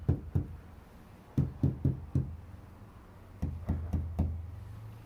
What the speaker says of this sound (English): This is that part where you bang on the door and go, oh man, it's echoey